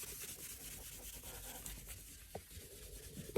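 The frets of a bass guitar are rubbed and polished with a soft, continuous scrubbing sound, quiet and close, ending with a small tap.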